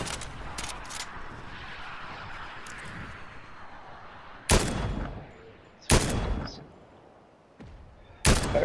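Gunfire in the video game Fortnite: a few sharp, loud broadband shots spaced a second or so apart, following a stretch of quieter game ambience.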